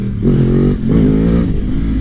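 A Yamaha R1 sport motorcycle engine is loud and close as the throttle opens, a rough revving drone that rises, dips briefly, then surges again over two seconds.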